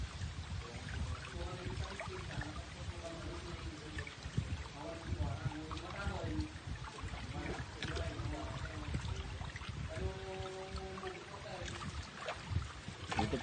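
New seawater gushes through a water gate into a freshly opened milkfish pond, a steady close rushing and splashing with faint tonal chirps rising above it now and then.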